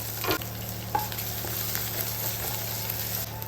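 Ginger, garlic and a couple of curry leaves fry in hot oil for a country-style curry, making a continuous close, even sizzle with a few brief pops and spatters near the start.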